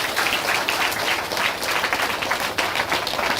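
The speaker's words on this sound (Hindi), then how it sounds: "सब ताली बजाए इस गवाही के लिए।" Congregation clapping in a Hindi church service after a healing testimony, a dense wash of many hands applauding steadily, moderately loud with no talk.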